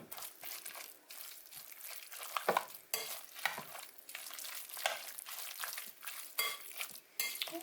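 A mixture for a Thai steamed khi lek leaf dish is stirred together in a pot, giving soft, steady scraping and crinkling with light utensil clinks and a faint sizzle, close and without talking.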